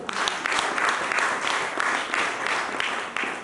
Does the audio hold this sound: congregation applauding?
yes